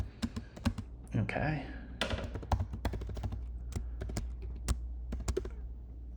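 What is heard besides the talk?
typing on a computer keyboard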